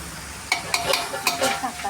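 Long beans (achinga) stir-fried as a mezhukkupuratti are stirred in a hot pan, with a steady sizzle broken by several sharp spatula scrapes and clicks at close range, no voices.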